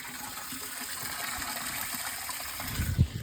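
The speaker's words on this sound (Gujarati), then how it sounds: "મોટરે ચાલુ છે પાણી ભરાવાનું ચાલુ છે" Water gushes steadily from a motor pump filling a tank at a cowshed, a constant rushing flow with a brief louder splash near the end.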